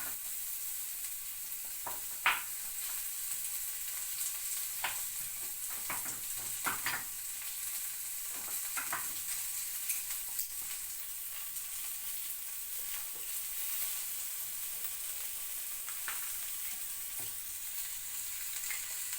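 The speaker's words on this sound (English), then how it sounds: "We're going to add our minced garlic." Minced garlic sizzles quietly in a frying pan under a steady hiss, broken by occasional scrapes and clicks as it is stirred.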